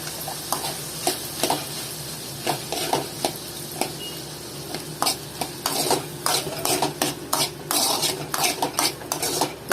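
Ginger garlic paste frying and being stirred in a pan, with a steady sizzle beneath repeated sharp scrapes and clinks of a utensil against the metal, close and fairly loud, with no talking.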